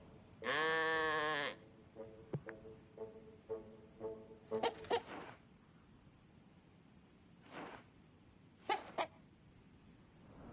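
Sheep in the video game Orwell's Animal Farm let out one loud, drawn-out bleat near the start, followed by scattered fainter bleats and calls over a quiet background.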